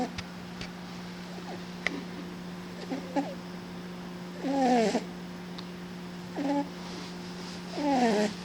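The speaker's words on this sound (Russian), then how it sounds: "Первый в мире храпящий кот." A cat snoring indoors, with rhythmic raspy breaths recurring every couple of seconds over a steady background hum, a few quiet clicks between, the louder snores fairly close.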